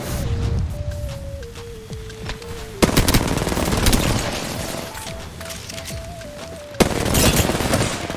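The Mozambique gun fires in Apex Legends, a video game, in loud, close, crackling volleys. Two sharp bursts stand out against steady gunfire and game noise, with a wavering tone running underneath.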